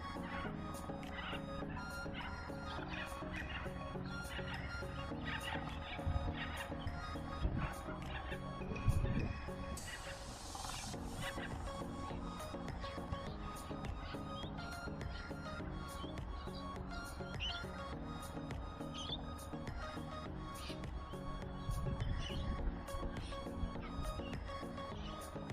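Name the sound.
birds calling outdoors during drone flight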